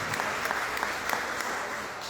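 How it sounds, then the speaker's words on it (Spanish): Steady applause from a church congregation fills the space, a continuous dense patter of many hands with a few sharper claps poking through, fairly distant and even throughout. "Denle un aplauso, Señor."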